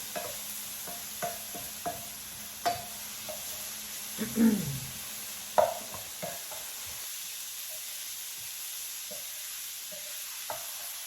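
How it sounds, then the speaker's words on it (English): Shrimp stuffing with Creole seasoning sautéing in a pan, a faint soft sizzle beneath scattered spoon scrapes and taps at an uneven pace, close by and without speech. "I'm just getting all this sauteed up."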